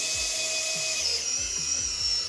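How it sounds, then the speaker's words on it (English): A power drill spins an Allen key while installing a fitting for a garage golf simulator build, giving a steady close whine with short bursts of low, grinding rotation pulsing underneath, no talking. "you can take an Allen key, shove it in your drill"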